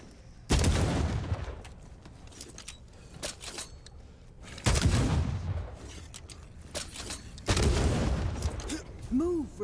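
Three heavy broadband gunshot-like blasts from the video game The Banishers, booming at roughly four-second intervals with rumbling tails, while a voice talks faintly in between.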